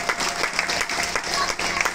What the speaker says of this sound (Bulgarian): Аплодисменти да чуем от гостите